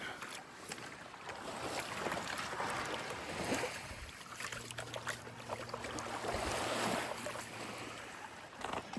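Beach sand from the Lake Superior shore is swirled in a gold pan with water, making a continuous sloshing, gritty wash with soft trickles and light wind noise, close and fairly quiet.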